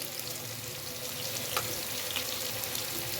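Cumin seeds and spices fry in a pan for a fish korma, giving a steady, quiet sizzle with a couple of faint clinks and no voices.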